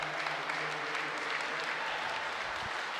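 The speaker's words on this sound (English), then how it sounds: "Big cheer for Dan there." Steady applause from a crowd at an archery pro shoot-down, cheering for the leading archer after a strong shot; dense, continuous clapping without a break.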